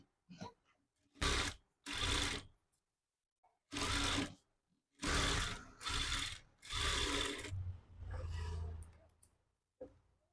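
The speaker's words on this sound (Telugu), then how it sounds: "లైనింగ్ని ఓపెన్ చేసి లైనింగ్ పైన స్టిచ్ అనేది వేసుకోవాలి" An electric sewing machine stitches a blouse lining in several short whirring bursts of one to two seconds each, broken by brief pauses, close and fairly quiet.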